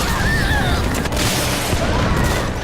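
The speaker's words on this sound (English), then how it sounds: "And our infiltrator was hit by a missile." Dense video-game combat from Metal Gear Online fills the space: a loud, continuous wash of gunfire and explosive rumble from a missile hit, with no pause.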